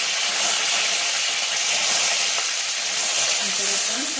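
Curry leaves hit hot oil already holding crackled mustard and cumin seeds, giving a loud, close, steady sizzle and hiss with faint scattered pops throughout, no talking over it.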